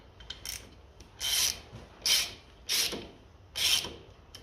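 Ratchet with a 1/2 inch socket giving a bolt a final snug on a 1957 Ferguson FE35 TVO tractor's charging system: four short raspy clicking bursts spaced about half a second to a second apart, close and fairly quiet.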